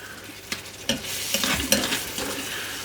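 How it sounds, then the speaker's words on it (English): Fermented sauces stirred into a pot of cowboy beans, a few scraping and clinking strokes of a spoon over a gentle simmering sizzle, close and without talk. "All these sauces are fermented umami, so we'll just give it a wee stir in."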